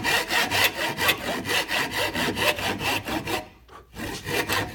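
A pistol-grip hand saw rasps through wood cutting dovetail joints in quick, regular back-and-forth strokes, loud and close, with a brief pause before the strokes resume.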